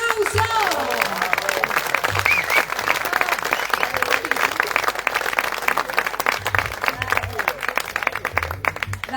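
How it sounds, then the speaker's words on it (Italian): An audience at a Sardinian choir concert applauds the performers with loud, sustained clapping, some sharp individual claps standing out, and voices and brief chatter mixed through the ovation. "Le Patitoni, un applauso!"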